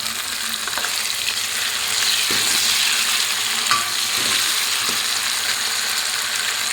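Tomatoes added to golden brown onions fry in a pan with a loud, steady sizzle, punctuated by a few soft stirring scrapes and clicks of a utensil.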